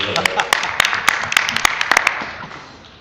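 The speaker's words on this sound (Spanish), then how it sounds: "Y otro aplauso para Héctor, por favor," Scattered audience clapping for a performer at a poetry slam talk, a few sharp claps spread over about two seconds before fading out, with talking around it.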